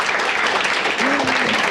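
An audience at a literary event with authors Jens Christian Grøndahl and Gustaaf Peek claps in a brief, dense burst of applause, moderately loud and continuous, with a faint voice briefly audible within it.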